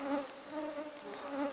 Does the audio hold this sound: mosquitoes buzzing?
yes